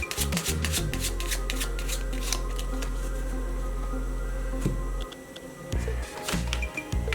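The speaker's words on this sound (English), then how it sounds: "Now I shuffle the deck of cards any way I want." A deck of playing cards is shuffled repeatedly in close, crisp riffling bursts over a steady low hum, pausing briefly near the end before more card handling.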